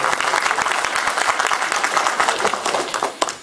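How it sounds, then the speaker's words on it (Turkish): Audience applause at a poetry reading by a local literature and arts association, a dense steady crackle of many hands clapping that fills the whole stretch at moderate loudness, ending with a single sharper clap. "Evet alkışlarımızla Rasul Doğaner."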